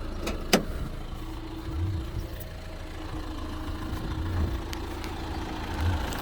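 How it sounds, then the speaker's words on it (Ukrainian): A 2018 Renault Master L3H2 van engine idles steadily with a low, even rumble, nearby and continuous, after a brief click at the start. "Так, двигун м'яко завівся."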